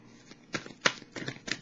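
Tarot cards are shuffled by hand in several crisp riffling bursts. The shuffling is close and moderately loud, with no talk over it.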